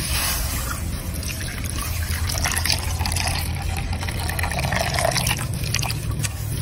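Milk is poured into a pan to start a white sauce, a continuous close liquid trickle and splash with a steady filling sound lasting several seconds.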